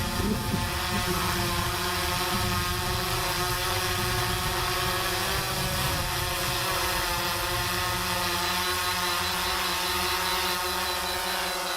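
A drone's motors and propellers spool up for takeoff, a loud, continuous whine with layered steady tones and a faint low rumble, holding level throughout.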